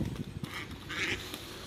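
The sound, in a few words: drakes fighting over a duck, quacking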